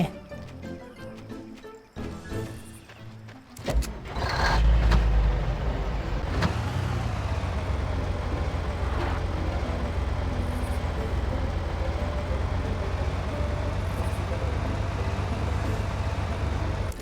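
An in-game car engine in Far Cry starts up and runs at a steady, loud drone after a few clunks and knocks, continuing without a break.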